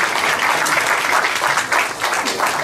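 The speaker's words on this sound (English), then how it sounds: "You might give him a round of applause for showing up." Audience at a Painted Cup Party in Pharr South clapping in a warm, dense burst of applause, close and steady for a few seconds.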